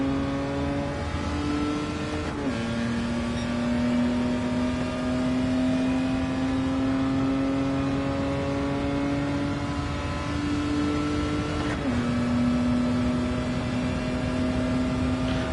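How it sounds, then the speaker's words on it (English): A steady, droning inline engine note from a 1986 Toyota Supra Mark II with a 3-liter 6M-GE engine swap in Gran Turismo 7, held at high revs with two brief dips at gear shifts and no talking. "my 86 Mark II Toyota Supra has a 3-liter 6 MGE engine swap"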